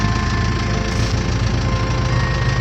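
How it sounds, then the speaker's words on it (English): A tractor engine runs steadily close by near a church, a loud continuous low rumbling drone with a faint whine on top, unbroken throughout. "Excuse the tractor in the background."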